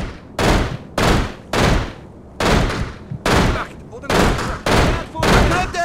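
Repeated heavy bursts of rifle and machine-gun fire in America's Army: Rise of a Soldier, loud and close in a steady stop-start rhythm with brief pauses between volleys.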